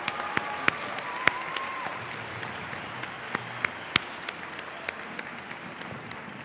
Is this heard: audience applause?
yes